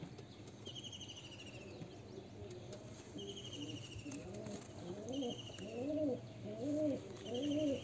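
Pet pigeons kept by a hobbyist in Murshidabad coo in a close run of rhythmic, rolling calls that build louder toward the end, with faint twittering chirps from other birds overhead.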